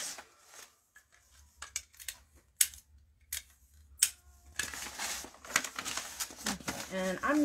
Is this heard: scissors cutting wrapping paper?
yes